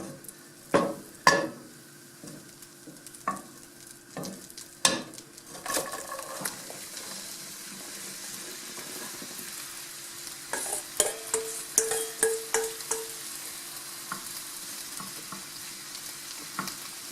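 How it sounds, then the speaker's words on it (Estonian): Chopped onion sizzling in melted butter in a pan for a French onion tart, a soft steady sizzle with intermittent stirring clatters and scrapes. "Või on sulanud ja siia läheb nüüd see hakitud sibul peale."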